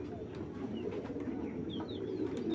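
Giribaz pigeons kept for sale coo steadily in low, throaty tones, fairly close and continuous across the whole stretch, with a few faint higher chirps over a steady background murmur.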